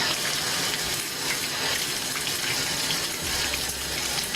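Hot water gushes steadily from a tap into a tub, a constant loud splashing rush with no voices.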